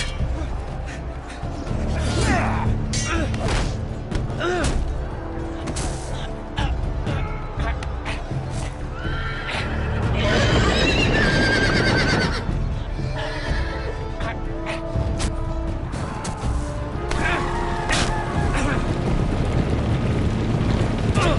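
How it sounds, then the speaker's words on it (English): Several horses in the Telltale Game of Thrones video game neigh and whinny loudly over a dense rush of trampling hooves and wind, a busy, continuous chaotic stampede that swells midway through. "the model doesn't look like he got trampled by 4 horses"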